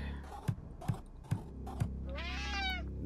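A cat meows twice in the Friday the 13th: Killer Puzzle video game, a clear rising-and-falling call after a run of four evenly spaced soft thumps.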